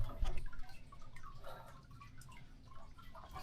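Water drips irregularly from a leak in a boat under repair, soft, quick plops over a faint background, the drops landing close by at an uneven pace.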